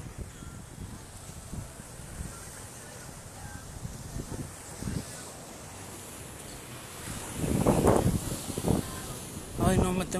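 Sea waves wash against the shore by the lighthouse in Cancun under steady wind buffeting the microphone, with surges of surf and someone talking over it.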